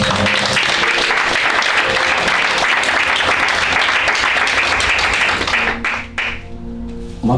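A church congregation claps and cheers, producing dense, loud, continuous applause that fills the space for several seconds before thinning out near the end, with a sustained tone rising underneath.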